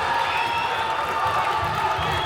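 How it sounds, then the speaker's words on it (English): Loud crowd cheering and yelling at a live fight event in an indoor venue, a sustained roar with scattered shouts and whoops close around. "The crowd is going absolutely mental at the moment."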